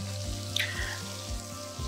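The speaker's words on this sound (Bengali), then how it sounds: "এরপরে যে ফুলকপিগুলো ছোট ছোট করে আমি কেটে রেখেছিলাম সেগুলোকে ভেজে নিচ্ছি।" Small cauliflower pieces frying in oil with five-spice, dried red chillies and a bay leaf in a pan give a steady soft sizzle, fairly quiet and without talk.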